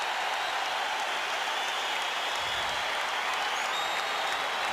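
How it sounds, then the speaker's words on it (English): A packed basketball arena crowd roars during a Bulls versus Lakers game timeout, a dense, sustained wall of cheering and applause that holds steady and loud throughout. "Listen to this crowd here."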